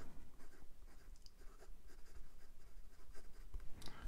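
Medium nib of a Kanwrite acrylic or ebonite fountain pen scratching across paper, a faint, close, papery scritch in short strokes and pauses, quiet and unaccompanied by talk.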